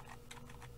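Rapid keystrokes on a computer keyboard while C++ code is entered, four quick clusters of close, crisp clicks in under a second over a steady low room hum.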